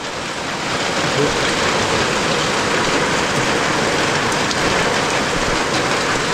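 Steady rain falls in a forest, a dense, even wash of drops that holds constant throughout with no breaks.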